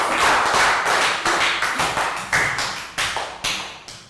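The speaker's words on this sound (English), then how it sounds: "And give yourselves all another round of applause for a good job." Young schoolchildren in a class applaud again, a loud clatter of many hands that slowly thins out, leaving a few scattered claps near the end.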